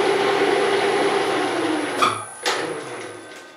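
A milling machine runs in back gear with a steady, fairly quiet mechanical hum, a couple of brief knocks near the end.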